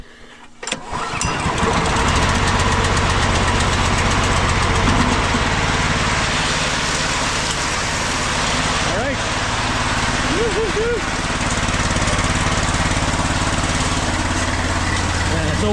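A small engine with its fuel and choke on cranks, catches and starts, then keeps running loudly and close at a steady idle with slight pitch wobbles, a voice briefly heard over it.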